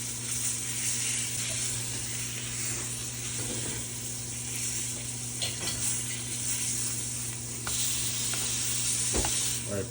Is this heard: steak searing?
yes